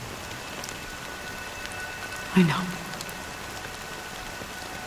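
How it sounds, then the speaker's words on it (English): Steady rain falls in a Honkai: Star Rail game cutscene, a soft even patter throughout, with a brief spoken line from a voice partway through. "it's still raining"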